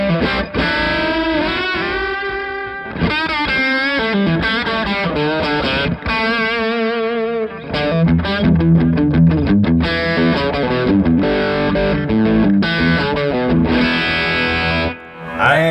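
Electric guitar played through an LSL overdrive pedal into an amp set to its overdrive channel, loud continuous distorted chords and sustained lead notes with bends, filling the whole passage without talk.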